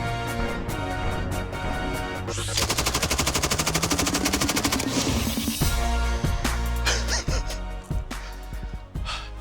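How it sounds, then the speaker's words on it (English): An M249 SAW machine gun fires a long, rapid automatic burst outdoors, loud and booming, with a few single shots and echoing reports before and after the sustained string of fire. "shoot a gun like this M249 SAW"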